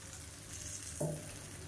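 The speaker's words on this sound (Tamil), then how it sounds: "நான் வந்து 300 ml அளவுக்கு தண்ணி சேர்க்குறேன்" Water poured into a cooking pan with a brief splash and hiss for Kodo millet semiya upma, heard once close up over a steady low kitchen background.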